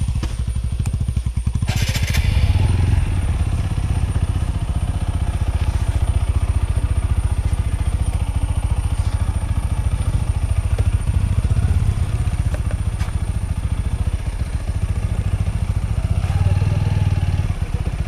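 A motorcycle engine runs loud and close throughout during monsoon off-roading, its rough continuous drone revving up and down with clattering and a burst of noise early on.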